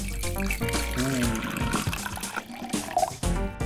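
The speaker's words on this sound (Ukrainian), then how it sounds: "У склянку наливаю воду." Water poured into a glass during a kitchen egg experiment, a trickling, splashing flow mixed with other tonal sounds, fairly loud and close.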